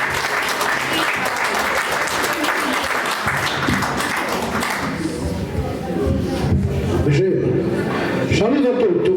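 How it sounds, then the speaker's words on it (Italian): An audience in Ossi bursts into sustained, dense applause for the performer Gavino Arca, loud and close, fading into murmuring and shuffling after about five seconds. "Un applauso a Gavino."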